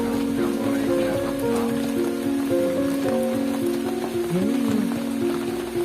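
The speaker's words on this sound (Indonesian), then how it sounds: "suasananya ini gerimis mengundang. Kan ini hujan rintik-rintik." Light drizzle falls outdoors in a steady soft hiss and patter, joined by a layered background drone, with a brief voice in the mix.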